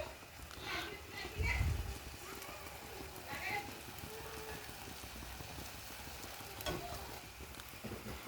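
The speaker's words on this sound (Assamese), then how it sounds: "আৰু এতিয়া এড কৰিম মই পানী" Water goes into a hot pan of drumstick leaves fried with khar and spices, bringing up a hissing, crackling sizzle with a stronger surge early on and then a steady, fairly quiet bubbling simmer.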